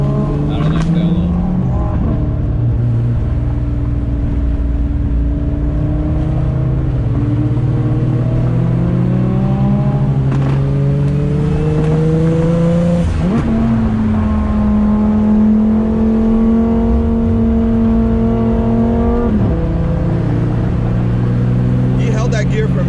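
A 900HP Supra accelerates hard on a night drive, its engine roaring loud and close as the revs climb and hold in one gear for a long stretch, shifting and climbing again, with voices underneath.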